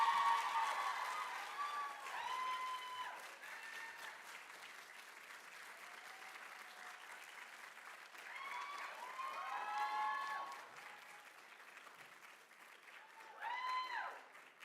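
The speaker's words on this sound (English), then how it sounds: "So will you please join me in a round of applause as I invite Kristen O'Regan" An audience at a white coat ceremony applauds, a soft, distant bed of clapping with rising cheers and whoops surging and fading across the stretch.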